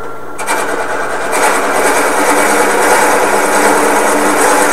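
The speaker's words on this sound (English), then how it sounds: "Let's drill the other side of this one out." A power drill whirs steadily and loudly, drilling out a part, its high grinding buzz cutting into material without pause, rising slightly after a brief start.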